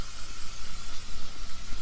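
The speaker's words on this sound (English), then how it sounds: "I'm going to spray this smooth." A spray bottle misting water onto a full wig, steady hissing bursts repeating closely together, near and fairly loud with no talking.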